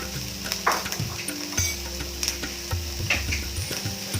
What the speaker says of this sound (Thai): เราจะผัดต้องให้หอมก่อนนะคะ